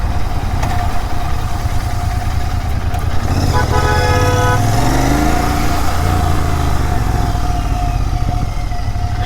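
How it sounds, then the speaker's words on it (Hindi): A Royal Enfield Continental GT 650 twin on its stock exhaust runs with a steady, loud engine drone throughout, with a brief tonal rise partway as it revs or pulls away. No talking is heard. "so pure sound, stock exhaust है"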